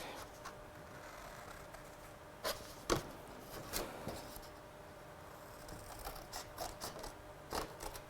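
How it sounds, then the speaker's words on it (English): Scissors trim a stamped paper piece for Christmas card crafting, giving quiet crisp snips and cutting clicks scattered across a hushed room, a few sharper cuts standing out. "I'll just trim this with my scissors"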